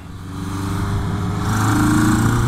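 A 1982 Kawasaki KZ750 LTD motorcycle running lean with an exhaust leak and a fuel delivery problem bogs under throttle, its engine droning steadily and loudly up close and swelling slightly without revving cleanly.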